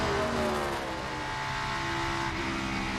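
NASCAR Cup Series race car engine on the Pocono track, a loud sustained roar with pitch shifting as the revs change, heard from onboard.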